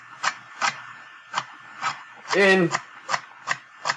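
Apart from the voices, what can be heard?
knife chopping celery on a wooden cutting board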